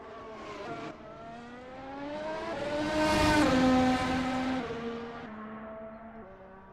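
A race car speeds around the Red Bull Ring circuit, its engine rising from a distant whine to a loud, close roar with shifting revs as it passes, then fading away.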